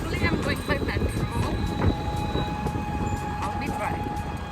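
A rumbling Delhi metro train with steady low mechanical noise and occasional clanks, voices murmuring underneath, continuous throughout.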